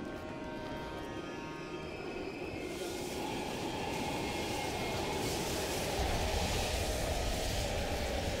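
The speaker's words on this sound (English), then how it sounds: "We can use a train to slip past." A train rumbles past in the Call of Duty Black Ops Cold War campaign inside an abandoned station, a steady loud rolling roar that builds and grows heavier partway through, with no voices over it.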